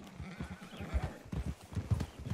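Horse galloping in the video game Red Dead Redemption 2, with rapid rhythmic hoofbeats close and steady throughout, and a faint whinny in the mix.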